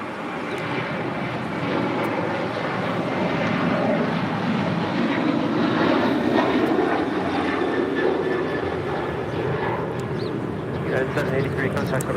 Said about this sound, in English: This is United 783 taking off to Washington Dulles on a 737-900ER.